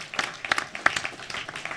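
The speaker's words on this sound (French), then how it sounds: "je crois qu'on peut applaudir bien fort" Graduation ceremony audience applauding, a scattered patter of claps with a few sharp, louder hand strikes standing out over the brief stretch.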